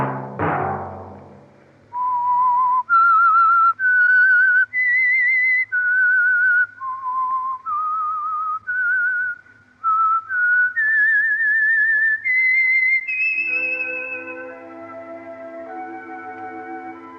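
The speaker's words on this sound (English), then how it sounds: "Let that whistle be your signal for the Signal Oil program, The Whistler" A lone whistler carries the melodic theme tune of The Whistler radio program, clear and close, each note held with short breaks between phrases, ending as soft orchestral music comes in.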